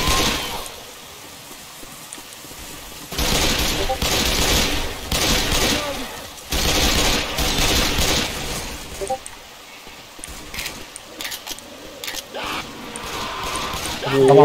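Gunfire in the zombie shooter Left 4 Dead 2 comes in dense, rapid bursts of automatic fire separated by quieter stretches, with excited voices talking over the game.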